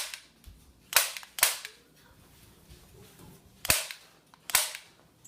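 A Combat Zone Enforcer airsoft gun fired on semi-automatic, giving five sharp, snappy shots at irregular spacing, with quiet gaps between them.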